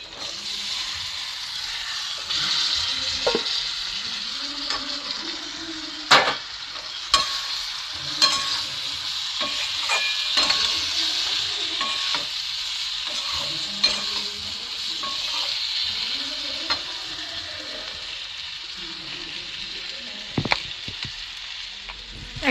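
Green beans and potatoes get stirred into a spiced gram-flour masala frying in a pan, a long spell of close sizzling hiss punctuated by sharp clacks and scrapes of the spoon against the pan, with no voices.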